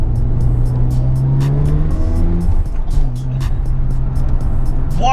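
A turbocharged 1999 Mazda RX7 FD RS pulls hard under acceleration, its engine note climbing loud and close with rising pitch, a brief dip around a gear change, then surging again, with faint tire and road noise.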